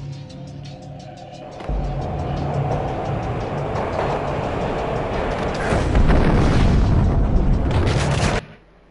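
Train ride in the PlayStation 2 game Max Payne: a low rumbling roar that starts softly, jumps louder, then swells into heavy rattling clatter before stopping abruptly.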